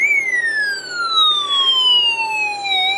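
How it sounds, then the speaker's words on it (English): A loud electronic siren from a Snap Circuits alarm IC and speaker wails in one continuous tone that slowly glides downward, then starts rising again near the end. "it turns on our alarm IC, which we hear the siren from our speaker"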